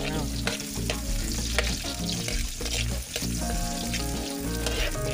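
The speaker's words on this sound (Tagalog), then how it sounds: "susurug-surugin natin ng konti itong mga sibuyas sa bawang" Onions and garlic sizzle loudly in a pan, with crackling spatters and occasional stirring scrapes under a steady frying hiss up close, and no voices.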